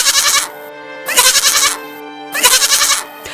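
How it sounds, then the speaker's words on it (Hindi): A goat bleats loudly and close up in three long, wavering calls separated by short pauses, with no other voices present. "अचानक मेरे मुंह से बकरी की आवाज आने लगी"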